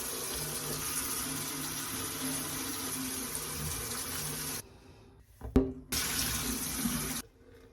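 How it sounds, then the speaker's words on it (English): A tap runs steadily while hair is washed with Head and Shoulders shampoo, loud and close, then the flow cuts off, briefly splashes again and stops. "I'm going to just wash my hair with the Head and Shoulder shampoo"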